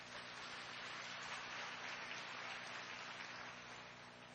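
Audience clapping together at a spiritual talk on yoga, a dense, steady patter of many hands that holds at an even level throughout and stays fairly faint.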